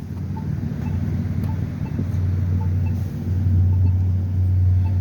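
Orange line replacement shuttle buses run from Back Bay to Forest Hills in December, a steady engine drone with wind buffeting that grows louder and rougher toward the end.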